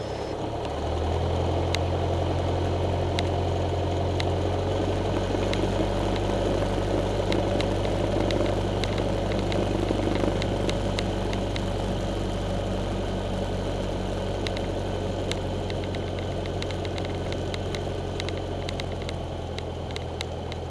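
Small airplane engine running steadily near a runway as a light trainer readies for takeoff, a loud continuous low drone with a strong steady hum and constant vibration filling the cabin throughout.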